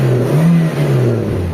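A Toyota Corolla GLI big-body engine idles with the aircon on and its idle-up working, a steady close hum whose pitch rises and holds with slight wavering.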